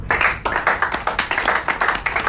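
An audience applauds a speaker being introduced on stage, a steady burst of hand clapping with rhythmic surges, fairly close and loud, with no voices over it.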